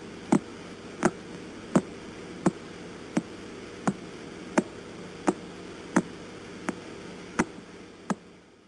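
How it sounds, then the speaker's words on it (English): Radio recording of a pulsar star, a steady series of about twelve sharp ticks at a slow, even pace over hissing static, faint and alone. "That's the sound of what they call a pulsar"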